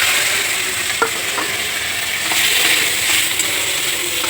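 Ingredients with dried chillies hit hot oil and sizzle loudly in an even, continuous hiss, with a few faint metallic clicks and scrapes of a utensil against the pan.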